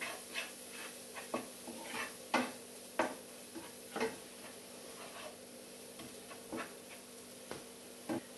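Ground coriander and turmeric fry in a pan while being stirred, giving faint, quiet scraping and clicking taps at an irregular rhythm over a low background hum.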